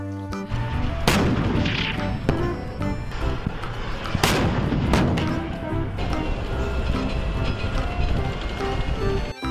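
A toy tank fires loud cannon-like blasts that boom a few times over a continuous rumbling, rattling noise, close and harsh.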